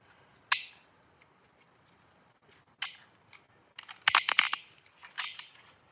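Tarot cards shuffled by hand during a live reading: scattered crisp riffling and snapping bursts, a sharp flick near the start, then a dense cluster of rapid card slaps toward the end, close and fairly quiet.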